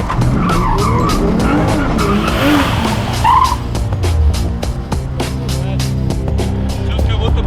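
A Toyota Supra A90 drifts and spins donuts, its tires skidding and squealing loudly and continuously over the roaring engine, with a few voices in the background.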